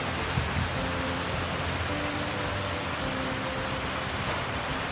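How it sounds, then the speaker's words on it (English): Rain falls steadily at home after a woodland hike, a dense, even hiss of drops on surfaces filling the scene without pause, fairly loud and with no voices. "Just when we got home, it rained."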